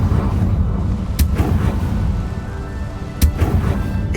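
Two sharp fiery blasts from the Confringo spell in Hogwarts Legacy, cast at dry vines. The blasts are a couple of seconds apart, each a brief crack and burst over a steady low rumble of game ambience.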